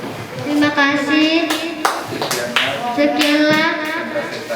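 At a school workshop, a group of children claps in a quick scattered patter while several young voices speak loudly over it, the clapping continuing underneath the chatter.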